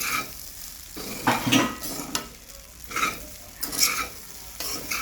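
Poha is stirred in a pan over low heat, with several distinct bursts of scraping and rustling from a spoon moving through it, set against a quiet background of faint sizzling.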